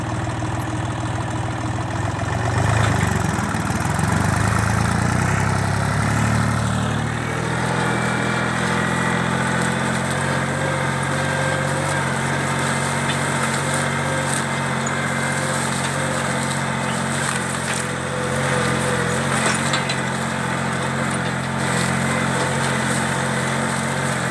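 A Dongfeng 244 tractor pulls a 1.5 m Bomet disc harrow over peaty soil, its engine droning steadily and loudly up close for the whole stretch, with a brief heavier rumble early on as it turns before settling into an even run.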